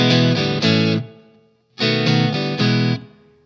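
An electric guitar with a distorted tone plays a rhythm on open strings, two loud bursts of quick repeated strums separated by a short rest, close and alone.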